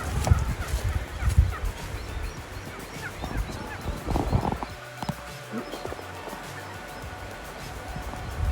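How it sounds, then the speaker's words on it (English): Wild turkeys gobble in bursts along the Gila River on the Continental Divide Trail, heard from mid-distance over outdoor background noise and scattered knocks. "Maybe wild turkeys, I think."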